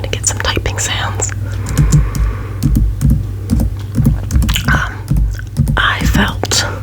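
Fingers tap a computer keyboard in quick, uneven bursts of close, crisp clicks and thuds under soft whispering in a quiet ASMR setting.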